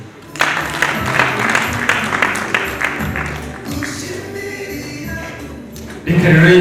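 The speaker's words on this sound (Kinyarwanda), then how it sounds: "ngaho niba kumpera amashyi" An audience gives a sustained burst of clapping at a wedding celebration. The applause is loud and steady and lasts several seconds, with a few voices faintly mixed in.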